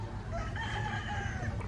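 Chickens cluck and a rooster crows faintly on a farm against steady outdoor background noise, the calls overlapping throughout.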